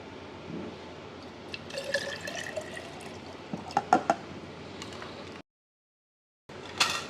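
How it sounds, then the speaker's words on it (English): Water trickles and splashes as it is poured into a glass jar, with a few sharper drips, then a brief silence and a final splash. "we're going to use 500 ml of, or 2 cups of water"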